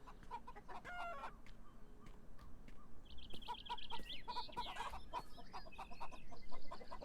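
Chickens cluck and squawk in the video game Beyond Eyes, with scattered short calls and a few longer cackling phrases over quiet ambient background, fairly faint and moderately distant.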